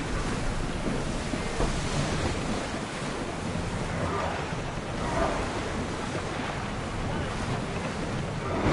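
Sailing ship crossing the open sea in the video game Assassin's Creed Odyssey, with a steady wash of waves and surf and wind rushing past, a continuous broadband roar holding at an even level throughout.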